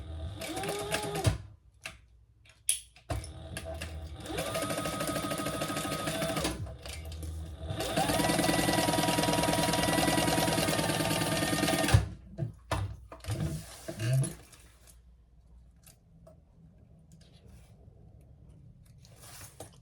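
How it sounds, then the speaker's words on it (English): A home sewing machine stitches the seam allowance along a zipper seam in two sustained runs with brief gaps, close and steady, followed by quieter fabric handling and clicks. "we're going to stitch that on the seam allowance"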